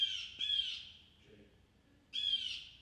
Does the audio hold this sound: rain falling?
no